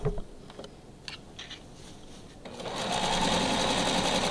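A sewing machine stitches along a top edge with a back stitch, with a few soft clicks and rustles first, then a steady close mechanical whir that starts partway through and runs to the end.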